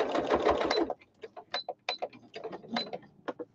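Sewing machine stitching around a purple fabric piece as pins are removed: a steady continuous whir for about a second, then a series of short intermittent bursts and mechanical clicks, close and moderately loud.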